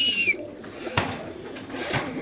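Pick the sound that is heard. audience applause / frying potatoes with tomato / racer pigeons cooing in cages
racer pigeons cooing in cages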